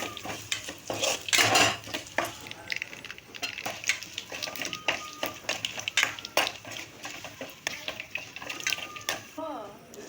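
Dry red chillies and garlic fry in a pan with a soft sizzle, broken up by repeated scraping and clinking of a metal spoon stirring, while a person speaks throughout.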